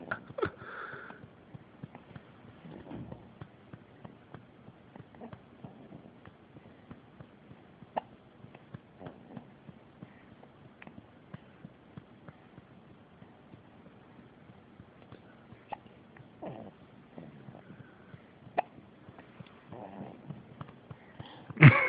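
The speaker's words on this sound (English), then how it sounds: "You got the hiccups." A young child hiccuping, with small scattered catch sounds and sniffs spread over a quiet room, faint and irregular, with a few sharper hiccups standing out.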